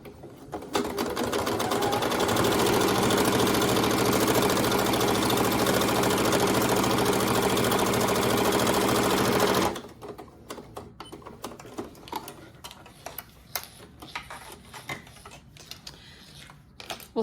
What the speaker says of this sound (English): Now we're going to go ahead and sew down both of the sides of the bag